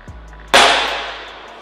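A toy gun fires once with a sharp, loud crack that decays quickly, preceded by a faint click.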